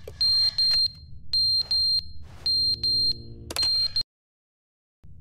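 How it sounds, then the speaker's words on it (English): A fire alarm in the video game The Stanley Parable sounds as a loud, steady run of repeated electronic beeping bursts in even rhythm, then cuts off abruptly into silence. "The fire alarm?"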